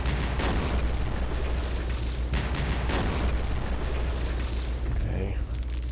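Cannon fire and explosions from the Campaign Series West Front war game, including 120 millimeter guns: a dense, continuous rumble of booms and bursts with a few sharper blasts, loud throughout.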